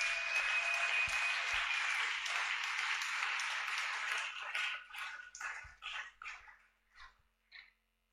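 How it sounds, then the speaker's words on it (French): A church congregation applauds for the Lord, a dense sustained wash of clapping that thins after a few seconds into scattered separate claps and fades out. "Acclame pour le Seigneur."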